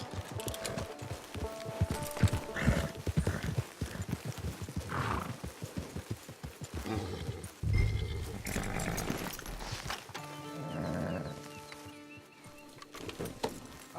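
Horse hooves clip-clop in a steady walking rhythm in the video game Red Dead Redemption 2 Online, with occasional snorts and a whinny, set against a continuous background of game ambience.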